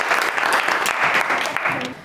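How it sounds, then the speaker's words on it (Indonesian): Brief round of applause for the red group in a classroom project session, steady dense clapping from a modest group that holds for a couple of seconds. "Beri tepuk tangan buat kelompok merah."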